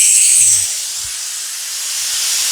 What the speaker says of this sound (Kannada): ಸ್ನೇಹಿತರೆ, ಇದು 4 ವಿಜಿಲ್ ಆಗಿದೆ.